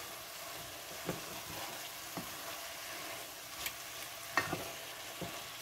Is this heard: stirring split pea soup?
yes